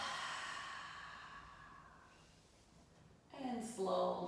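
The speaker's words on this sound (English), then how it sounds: "Open mouth, exhale." A long breath is exhaled through an open mouth and slowly fades out, then a voice follows close to the microphone.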